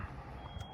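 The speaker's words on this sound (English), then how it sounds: "I'm sitting here listening to a smoke alarm go off." A smoke alarm's steady high-pitched electronic beep tone holds throughout inside a used 2003 Southern Homes double-wide mobile home, with a low rumbling background underneath.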